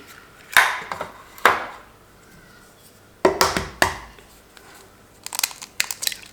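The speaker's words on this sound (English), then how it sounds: "Never been very good at cracking eggs" Eggs cracked against a bowl while making condensed milk biscuits, a few sharp cracks and crunches spaced apart, followed by a quick cluster of taps and crackles near the end, with no talk.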